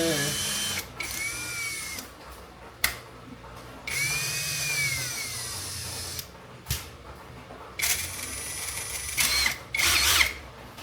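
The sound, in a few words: Nanwei 16.8V cordless drill running at slow speed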